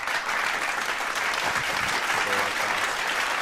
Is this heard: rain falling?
no